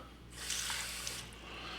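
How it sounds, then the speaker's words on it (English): Water runs from a kitchen tap in a steady hiss of about a second while keto hummus is being made with lemon juice, with no talking over it. "And now I'm gonna pull a little bit of water,"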